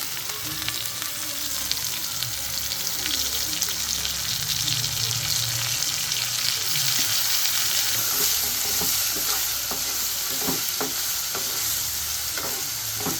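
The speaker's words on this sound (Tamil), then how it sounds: "கருவேப்பிலை கொஞ்சம் போட்டு வதக்கிக்கணும். அப்புறம் இந்த இதை போட்டுக்கோங்க, சொரக்காவை துருவினதை போட்டுக்கோங்க." Grated bottle gourd and curry leaves sauté in a pan for surakkai adai, a loud continuous sizzle with a spoon stirring and scraping close by throughout.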